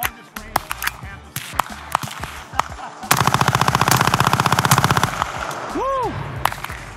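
Suppressed full-auto gunfire at an outdoor shooting range: a few scattered single shots, then a long rapid burst of evenly spaced rounds lasting about two seconds, loud and close, with a couple of trailing shots after.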